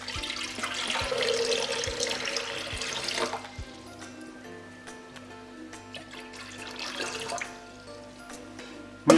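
Water pours into a Thermomix bowl as a steady splashing stream that stops midway, resumes briefly, then ends, fairly quiet and close in a kitchen.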